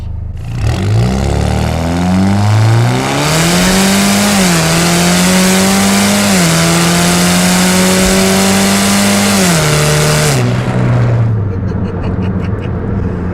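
A 2008 Saturn Sky Redline launches from a standstill, its engine revving loudly and climbing through the gears with brief dips at each shift, then backing off near the end, close and dominant throughout.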